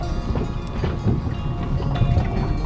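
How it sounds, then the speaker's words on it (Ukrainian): Gusty November wind buffets the microphone with a steady, rough roar while feeder fishing, mixed with lapping waves nearby. "Погода трошечки спортилась, вітер роздувся знову."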